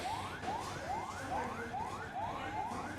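Fire service vehicle sirens wail at a fire at Shahjalal International Airport, repeating rising whoop sweeps at a steady, rapid rhythm, loud and continuous over background noise with no talking.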